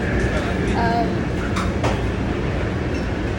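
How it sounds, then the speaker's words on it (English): Interior of a moving train during a ride home, with a steady low rumble and broadband rolling noise throughout, faint brief squeaks and tonal hums layered on top. "I'm on the train"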